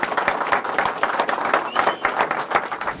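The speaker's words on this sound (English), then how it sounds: "Yeah, round of applause." Audience applause at the world premiere of the PS Audio DirectStream DAC, a steady wash of many hands clapping close by, dense and continuous for a few seconds without speech.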